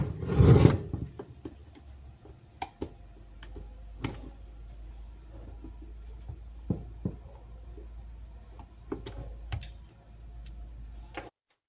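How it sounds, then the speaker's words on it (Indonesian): A screwdriver works a screw loose on an electronic appliance such as a TV or active speaker, giving scattered close clicks, ticks and faint scraping against a quiet background, with one louder rustle at the start. "Terus kita buka sebuah skrup yang ada di sini."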